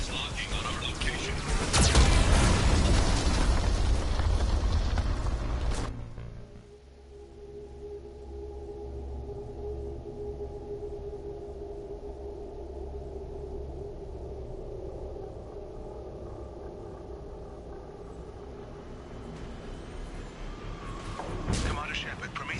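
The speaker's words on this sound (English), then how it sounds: "Warning, Geth cannon is locking on our location." Mass Effect 2 Geth cannon fire, a loud roaring blast with heavy rumbling explosions, then a quieter stretch with a droning hum, ending in another burst.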